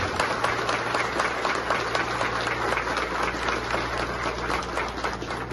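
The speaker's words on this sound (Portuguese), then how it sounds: "Eu quero que vocês recebam e aplaudam o Júnior" Crowd applauding at a supermarket store opening in Monte Alto, steady dense clapping that stays loud and even throughout, with a faint background hum.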